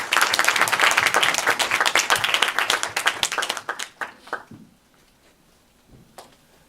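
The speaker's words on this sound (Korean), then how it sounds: "큰 박수로 맞아주시죠" An audience at the closing ceremony of a Catholic film festival claps to welcome a priest to the stage, brisk close applause that thins out and stops after about three and a half seconds, leaving near silence.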